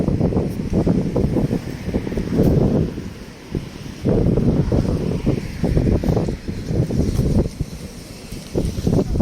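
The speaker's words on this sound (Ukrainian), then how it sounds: "Сьогодні досить прохолодно дме холодний вітер" Steady gusting cold winter wind at about minus 3 degrees buffets the microphone with a low rumble that swells and eases throughout, loud and close, with no voices.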